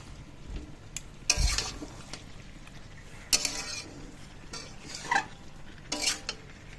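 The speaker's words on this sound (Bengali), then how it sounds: "মিশিয়ে নিয়ে খুব আর একটু ভালো করে কষবো।" A spoon scraping and stirring chicken curry with potatoes in a metal pan, a few distinct clanks and scrapes separated by quiet gaps, with a faint sizzle underneath.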